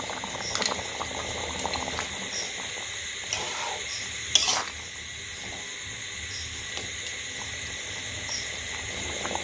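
Chana masala curry bubbles at a steady boil in a pot, with a continuous soft simmer and a few louder clicks and pops along the way.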